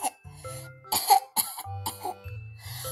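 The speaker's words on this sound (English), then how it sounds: "Tsuro started to cough again." A short run of several harsh coughs close by, sputtering in quick bursts separated by brief pauses.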